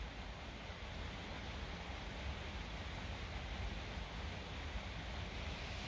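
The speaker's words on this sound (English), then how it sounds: "All I can hear is the water falling." A continuous broadband rush of falling water on the Stourbridge Canal, steady and fairly distant, with no voices.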